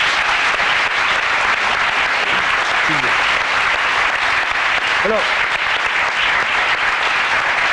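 A studio audience applauds a guest on a French television tribute to Claude François, loud continuous clapping filling the whole stretch while a presenter's voice speaks briefly over it.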